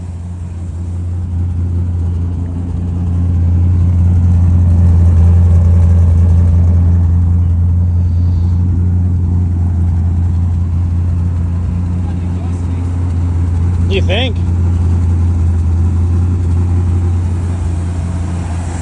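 A 1967 Chevrolet C10 pickup engine idles with a steady low rumble behind a crudely welded exhaust, loud and continuous throughout, while someone speaks briefly over it.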